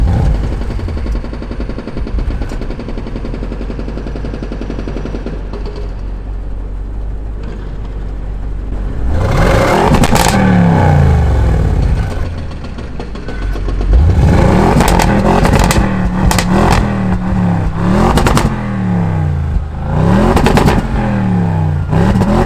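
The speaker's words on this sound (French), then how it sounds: "je t'invite à aller dans les pots d'échappement derrière pour faire écouter ce magnifique bruit incroyable" Audi RS7 with 560 hp, exhaust heard up close at the rear pipes: after a quiet idle stretch, loud repeated revs rise and fall in bursts with crackling pops between them, no talking.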